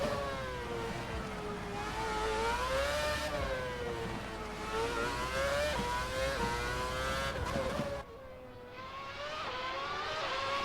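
Onboard race car engine in a Formula racing video game on the Singapore street circuit, a loud continuous high whine rising and falling through gear changes, with a sharp drop in level near the end before climbing again.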